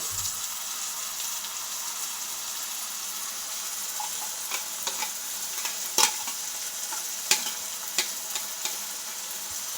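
Spice paste stirred into lightly cooked onions and green chillies for tomato mint rice, giving a continuous frying sizzle with scraping stir strokes and a few sharp spatula clicks, close and without talk.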